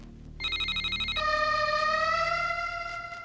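A telephone rings with a bright electronic warbling tone, starting after a brief pause and then holding a steady pulsing ring, fairly close and alone without talk.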